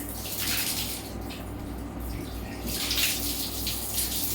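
Water poured from a jug splashes over a tiled bathroom wall during cleaning, a steady close rush of pouring and splattering with a brief lull partway through.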